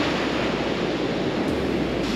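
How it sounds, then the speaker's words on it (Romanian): Steady, loud roar of ocean waves breaking on a coral reef beach at La Digue, Seychelles, a continuous broadband surf wash with no talking. "este barieră de coral și de asta sunt valuri de astea așa mari"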